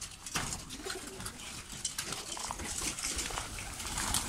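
Soft cooing from fancy pigeons in a loft runs on without pause, several birds overlapping at moderate loudness, with a few small clicks and shuffles mixed in.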